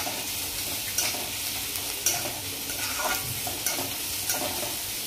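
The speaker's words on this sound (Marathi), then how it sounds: "त्याचा थोडा सुक्का मसाला ठेवलेला आहे, तो टाकून घ्यायचा आहे। तो देखील छान परतून घ्यायचा तेलामध्ये।" Dry spice masala fries in oil with a steady close sizzle, and a spatula repeatedly scrapes and stirs it in roughly even strokes about once a second.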